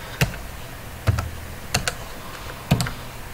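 Typing a solve command on a computer keyboard, four separate clusters of crisp key clicks spaced about a second apart, close and distinct over quiet room noise.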